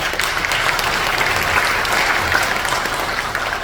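Loud, continuous applause from a large audience at a memorial service for General Paik Sun-yup, steady clapping throughout with no pauses.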